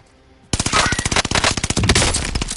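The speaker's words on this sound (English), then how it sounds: "Shots." Rapid automatic gunfire in a video game, a loud burst of evenly spaced shots that starts abruptly after a quiet moment and keeps rattling for about two seconds.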